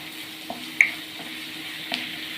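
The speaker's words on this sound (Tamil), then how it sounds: "கருவேப்பிலை போட்டுக்கலாம். இது வதங்கிட்டு இருக்கட்டும்." Curry leaves sautéing in a pan, a soft continuous sizzle with a few light stirring clicks and one sharp tap, close and fairly quiet, no talk.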